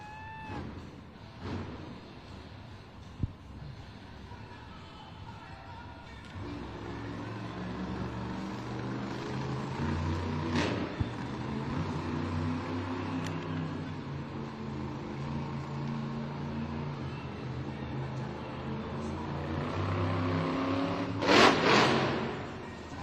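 The Earthshaker monster truck engine revs in an indoor arena at a Monster Jam event, a deep rising roar with harmonic climbs, set against crowd noise and a sharp burst near the end.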